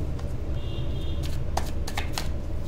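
Tarot cards riffle and slap in a few quick, crisp bursts close by, over a steady low background hum.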